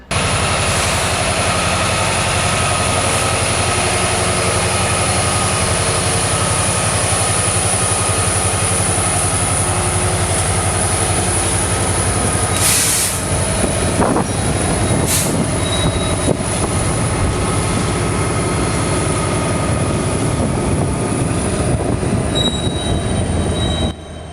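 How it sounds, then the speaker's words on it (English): A freight train leaving a yard rumbles steadily for a long stretch, with high, sustained wheel squeal ringing over the low rolling noise and a brief clank midway. "our first train leaves the yard"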